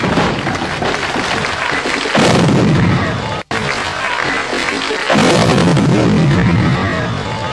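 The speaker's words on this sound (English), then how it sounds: "The explosion caused a momentary breakdown in transmission across America." A loud, roaring blast from an exploding drum kit during a televised rock performance, broadband and sustained with a brief dropout midway before the din surges back, dense and overwhelming.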